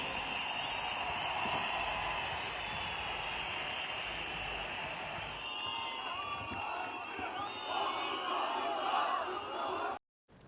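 A huge protest crowd of tens of thousands outside Istanbul's municipal headquarters, a roaring wall of massed voices with rising chants and whistles, steady and loud from a distance before an abrupt cut near the end.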